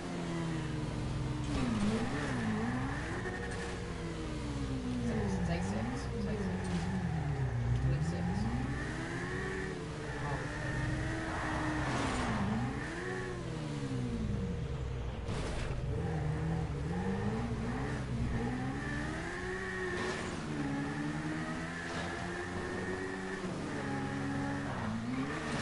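Race cars in a PS4 racing video game rev and accelerate continuously, engine pitch rising and falling through gear shifts and turns, loud and steady, with a voice talking over it at times.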